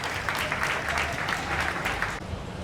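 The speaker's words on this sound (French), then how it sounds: "Je vous demande d'applaudir fortement pour les Seigneurs." An audience applauds loudly at a back-to-school ceremony, dense sustained clapping that cuts off abruptly near the end, with faint voices underneath.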